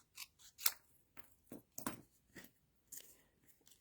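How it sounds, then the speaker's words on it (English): Sharp scissors make a handful of quick, close snips while hand-cutting and trimming a small paper tag for a papercraft treat bag, each cut a brief crisp click with short gaps between. "Cut that, trim that down just a little more"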